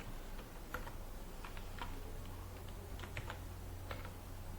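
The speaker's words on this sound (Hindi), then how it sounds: "पहले तो मैं इसको स्मॉल कैरेक्टर टाइप करके देखता हूँ" Light, irregular clicks of a computer keyboard as lowercase characters are typed into an Excel spreadsheet, faint against a steady low background hum, with no talking.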